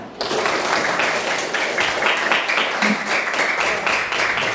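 A fifth-grade class breaks into applause, a dense, steady roar of many hands clapping at once that fills the room and keeps going without a break.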